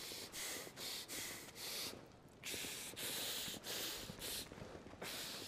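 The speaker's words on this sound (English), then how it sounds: "This boy has a problem breathing over here. Sound like a bulldog." A Final Fantasy XVI character breathes heavily in rhythmic snorting bursts, loud, close and repeated roughly every half second with a brief pause midway, with no talk over it.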